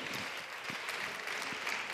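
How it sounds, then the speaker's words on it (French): Applause from an audience welcoming a group of students, a steady dense patter of many hands clapping together, fairly loud and continuous throughout, with no voices standing out. "On peut les applaudir bien fort."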